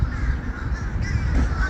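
Crows cawing over a dense, steady wash of background noise, several harsh calls overlapping and rising near the middle and toward the end, with no voices.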